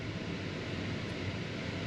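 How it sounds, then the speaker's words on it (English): A car's air conditioning blower runs close by inside the cabin, a constant, even rushing whoosh with no breaks. "So sorry about the noise, he's putting the aircon on."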